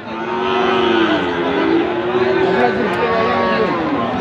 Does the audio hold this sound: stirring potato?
no